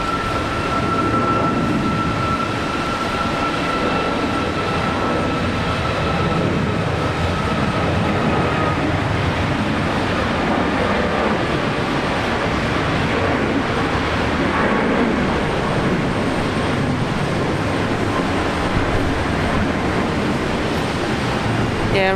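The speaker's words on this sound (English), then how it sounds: "Batik Air Malaysia is rolling now." A Batik Air Malaysia airliner on its takeoff roll at Brisbane Airport gives a steady, loud engine roar that holds evenly throughout, with no voices over it.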